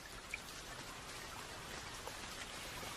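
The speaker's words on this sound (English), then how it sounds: "as a steady rain fell in the Sierra Nevada" Steady rain falling in the Sierra Nevada, a dense, even patter of drops with faint scattered ticks, continuous and unbroken with no voices over it.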